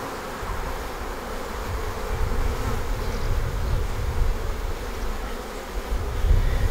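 A honeybee colony hums with a dense, steady buzz close by, open during queen rearing grafting, with no talk.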